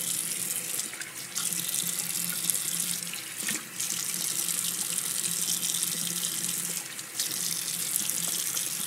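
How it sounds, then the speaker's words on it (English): A bathroom tap runs steadily into a sink as someone rinses their face after a safety-razor shave, a constant close water hiss broken by brief splashy dips. "So I rinse my face and"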